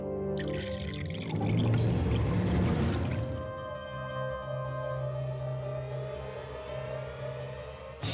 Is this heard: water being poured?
yes